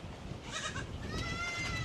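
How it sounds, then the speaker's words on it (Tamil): A baby goat bleating close by, two short wavering cries in quick succession over faint outdoor background noise. "இந்த குட்டி ஆடு"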